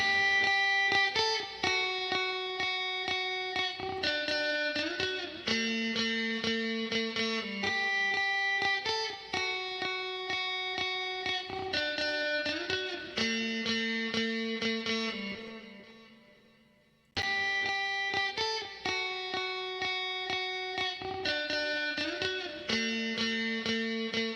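An electric guitar lead plays sustained, echoing notes with heavy delay and reverb from Waves Eddie Kramer series plugins, fading out briefly before the phrase resumes.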